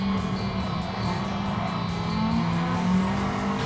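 Race car engine in Gran Turismo 7 downshifting into a corner: a steady close engine drone with pitch dropping and rising as gears change, faint tire squeal layered over it, with no voices.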